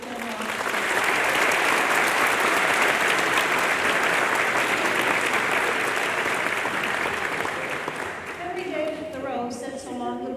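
A large audience at an evening ceremony gives sustained, dense applause that holds steady for several seconds and then fades into a speaker's voice at the end.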